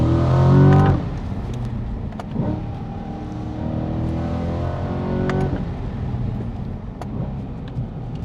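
A Chevrolet C8 Corvette with a dual-clutch gearbox accelerates, the engine rising in pitch in loud pulls with sharp exhaust pops and cracks on upshifts, heard from the cabin with no talking.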